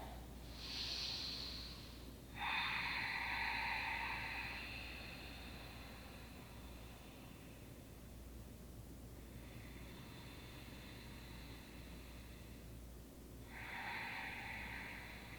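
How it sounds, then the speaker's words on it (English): Ujjayi pranayama breath drawn through a constricted throat rushes in long, soft, hissing waves, three distinct breaths over quiet background, close and steady. "exhale as you seal your lips, constrict the back of your throat, activating your Ujjayi pranayama"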